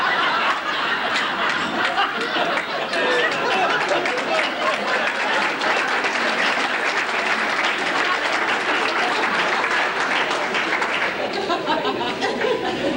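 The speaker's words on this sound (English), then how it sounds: "I hope I get as much applause as the microphone." A seated audience breaks into long, steady applause that fills the room evenly, with scattered chuckles and murmured chatter mixed in before it begins to thin out near the end.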